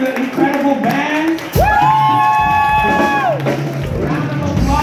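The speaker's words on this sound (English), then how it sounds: "Round of applause, please," Crowd at a live band performance at Guilt and Co cheering and clapping, with a loud swell of whoops and shouts that rises sharply and stays dense for several seconds, a sustained organ-like tone ringing over the noise.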